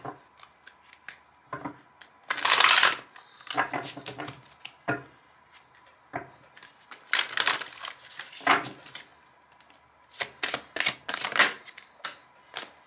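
Tarot cards being shuffled and handled close up, with repeated bursts of riffling and slapping card noise, some short and some longer, separated by quiet pauses.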